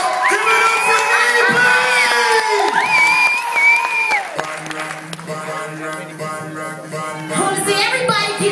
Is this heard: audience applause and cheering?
yes